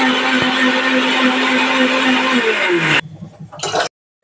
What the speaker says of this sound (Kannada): ಐಸ್ ಕ್ಯೂಬ್ಸು ಮೊಸರು ಹಾಕ್ಕೊಂಡು ಈ ಥರ ಬ್ಲೆಂಡ್ ಮಾಡಿಕೊಂಡೆ